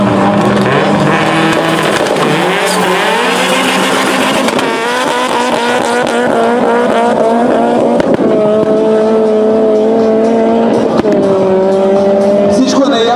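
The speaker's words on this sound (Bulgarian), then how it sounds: "сега вече колите зацепват" Front-wheel-drive drag racing cars launching off the line at a 2016 drag event in Sliven, engines roaring loudly and continuously with some tire squeal, while a commentator talks over them.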